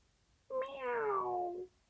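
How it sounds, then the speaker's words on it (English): A single drawn-out cat meow with a rising then slowly falling pitch, clear and close, lasting just over a second against a quiet background. ""Meow," agreed Sparkles."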